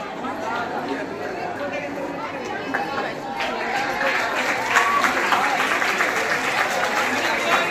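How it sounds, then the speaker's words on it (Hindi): Audience applause at a village school annual function prize distribution, crowd chatter giving way to a swelling round of clapping that grows louder in the second half, with voices beneath. "जोरदार तालियों से स्वागत किया जाए"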